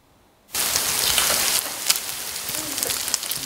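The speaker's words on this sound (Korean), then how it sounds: "차례상에 오를 전들이 지글지글 소리를 내며 맛있게 익어갑니다" Korean jeon pancakes, including lotus root pancakes, sizzle in hot oil, a loud steady crackling hiss that starts abruptly and continues with small pops, no voices.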